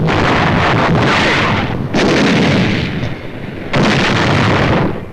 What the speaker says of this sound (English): The long-range German guns were getting hot from throwing shells across the channel.